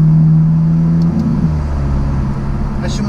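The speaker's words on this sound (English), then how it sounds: "As you might notice, this car is pretty loud when you drive it." Alfa Romeo 4C engine droning loudly from inside the cabin while driving, a steady low hum that shifts pitch about a second in, continuing steadily to the end.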